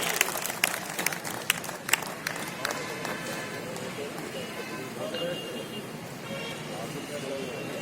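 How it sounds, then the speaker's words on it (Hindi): At a BJP workers' meeting, the audience gives scattered, fairly distant applause to welcome minister Moolchand Sharma; the claps thin out into crowd murmur while voices talk. "आप लोग तालियां बजाकर स्वागत करें माननीय मूलचंद शर्मा जी"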